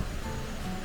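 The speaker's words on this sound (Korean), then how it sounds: "벌써 계곡 물소리가 들리죠?" A mountain valley stream flows steadily below Wolchulsan in Yeongam, South Jeolla, producing a continuous broadband rush of water, moderately faint and heard from a short distance with no talk.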